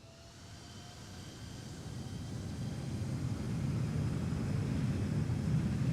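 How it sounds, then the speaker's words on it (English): An Embraer 175 on landing with thrust reversers deployed, heard from inside the cabin as a broad low roar that builds steadily louder, with no talking. "Nice sounds from the reversers here."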